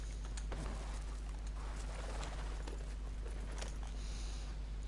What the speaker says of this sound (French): Là, il y a blindé d'oiseaux.